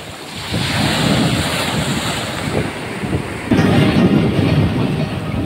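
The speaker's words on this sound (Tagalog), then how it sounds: "Kahit malakas ang hangin eh" Strong wind roars across the microphone with rumbling gusts, blended with the wash of surf breaking nearby, at night on the shore in Batangas City, Philippines.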